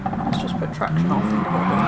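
A BMW Vision Gran Turismo in Gran Turismo Sport slides with traction control off, its engine droning and tires squealing in a wavering scrub, close and steady, while a person talks over it.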